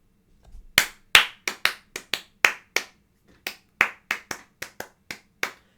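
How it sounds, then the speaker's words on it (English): Sharp, separate claps ring out close and crisp, about fifteen in a loose irregular rhythm with a short pause midway, with no talking over them. "Let's clap for Nior il Grande."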